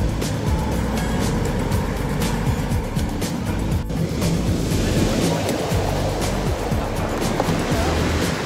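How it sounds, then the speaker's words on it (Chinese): Large ocean waves crash continuously on the shore at Qixingtan beach in Hualien, a loud, steady roar of surf with wind noise, close and filling the whole scene. "浪花好大哦"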